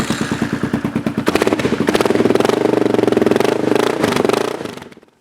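A Kawasaki KLR 650 dual-sport motorcycle engine is cranked over with a rapid chugging rhythm, then catches and settles into a loud, steady idle close by before cutting off near the end.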